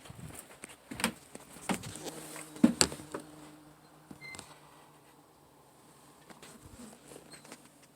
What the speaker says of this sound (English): I swear I hear a bee.